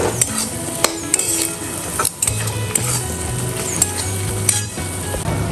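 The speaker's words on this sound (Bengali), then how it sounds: "এবার এটাকে খুব ভালো করে কষিয়ে নিই।" Ground spices (turmeric, chilli powder, coriander powder and Kashmiri red chilli powder) sautéed for an egg curry, sizzling steadily in a pan with repeated clinks and scrapes of a stirring spoon against metal.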